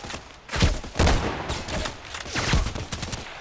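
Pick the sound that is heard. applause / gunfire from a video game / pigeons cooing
gunfire from a video game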